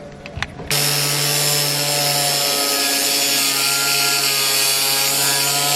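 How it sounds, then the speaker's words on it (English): Flat grinding disc stripping paint from metal for a Mazda NA MX5 Miata wide-arch build, a loud, steady high-pitched whine that kicks in abruptly after a few faint knocks and grinds on continuously, close by. "I'm basically just going to grind down all the paint and stuff"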